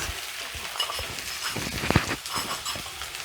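Four large chopped onions fry in a pot with a soft continuous sizzle, punctuated by light clinks and stirring nearby.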